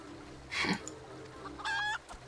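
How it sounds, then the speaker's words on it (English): A rooster in the Final Fantasy XIV video game makes two short clucking calls about a second apart over a steady, quiet in-game background hum. "I tamed a rooster and painted it green."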